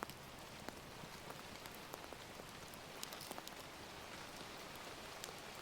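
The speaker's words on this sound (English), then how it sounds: "When we hear rain falling on a surface above us" Steady rain falls on a roof overhead, a dense even patter of drops with scattered louder taps, heard from under shelter on a stormy evening, continuous and without voices.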